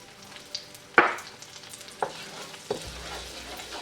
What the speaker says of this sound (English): saute it for less than 30 seconds because you don't want the cumin seeds burning